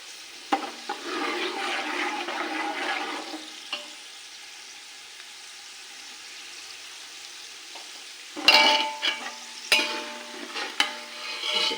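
Coconut slices roasting and being stirred in a pan for chivda produce soft scraping and light sizzling, in bursts early and again near the end with a quieter pause between.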